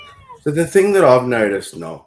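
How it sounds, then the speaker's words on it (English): A pet cat meows in a drawn-out, rising and falling call heard close by, mixed in with a man's speech during an online group discussion. "No, that was my cat."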